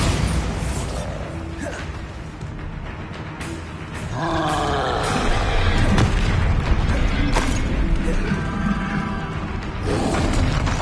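A Bombarda spell goes off in Hogwarts Legacy, sending out a heavy booming blast with a rumbling roar that swells and lingers over several seconds amid ongoing game sounds.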